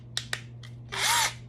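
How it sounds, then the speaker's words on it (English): A handheld power drill, used for the first time, gives a couple of sharp clicks and then a short, close whirring burst of about a third of a second. "This is my first time ever using a drill."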